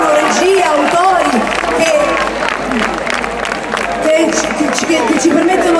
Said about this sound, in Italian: l'applauso di Piazza San Giovanni è per voi